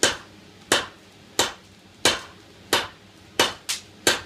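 Hammer blows through a round die drawing out hot metal at a blacksmith's forge: seven sharp, loud, evenly spaced strikes, each ringing briefly before the next.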